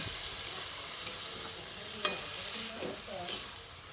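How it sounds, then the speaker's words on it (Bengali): Spinach being stirred in a pan with no added water, a steady soft sizzle under a few sharp scrapes and taps of the spoon near the end. "আবারও শাকটাকে দিয়ে ভালো করে নেড়ে চেড়ে মিশিয়ে নিচ্ছি"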